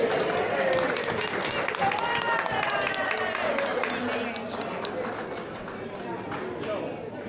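An audience at a 10th anniversary gala dinner for an Italian historical society applauds in a dense, sustained wash of clapping mixed with cheering and crowd voices, slowly easing off.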